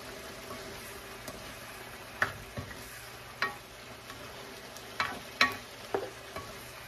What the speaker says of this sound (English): hintayin lang natin kumalo yung ano, yung sabaw at lumambot yung potatoes